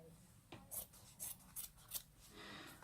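Scissors cutting fabric for the legs of a handmade tilda doll, about five quiet, crisp snips in an uneven rhythm, close and faint, followed by a soft rustle of cloth.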